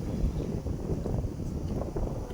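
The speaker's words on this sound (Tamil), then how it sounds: "ஏன்னா பயங்கரமான காற்று." Strong wind buffets a microphone on a hilltop campsite, a loud, gusty low rumble with irregular blasts throughout the short stretch, no voices.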